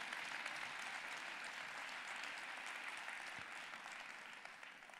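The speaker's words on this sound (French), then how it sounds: "Je crois qu'on peut encore l'applaudir." Audience at a university thesis-presentation contest final in Nantes applauding steadily for about five seconds, dense and fairly even, easing slightly toward the end with no speech over it.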